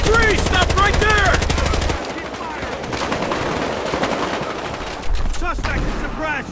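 Sustained automatic gunfire and scattered shots in the Battlefield Hardline video game, loud and close, with heavy rapid bursts at the start and again near the end. Distant shouting mixes in behind the shots.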